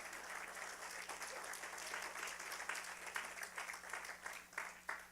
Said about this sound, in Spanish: No, si lo va a aplaudir, apláudalo, gloria al Señor